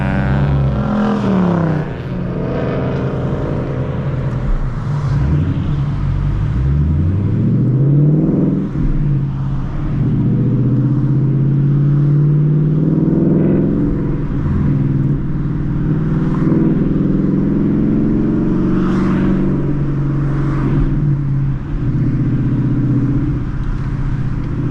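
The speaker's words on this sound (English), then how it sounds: "The downshift sound. It's so good." A 2022 Ford Mustang GT V8 revving up and dropping through downshifts, deep loud engine rumble with rising and falling pitch sweeps and throttle blips, heard close from inside the car.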